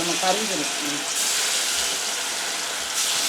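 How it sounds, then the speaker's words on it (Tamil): Hot oil sizzling and crackling in a pan as fish is fried at home, a steady hiss that swells slightly midway, with a brief low rumble at the start and no speech. "மீன் பொறிக்க போகுது அவ்வளோதான் எண்ணெய் சூடாகிட்டு இந்த மீனை போட வேண்டியதான்"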